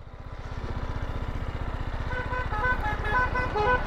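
An adventure motorcycle is ridden up a staircase. Its engine chugs in a steady, rapid low thump that grows louder and denser as it climbs, close by, with no talking.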